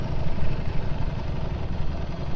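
2025 Ducati V4 Panigale coasting during a ride, a steady low engine rumble mixed with wind and road noise, continuous and fairly loud throughout with no talk.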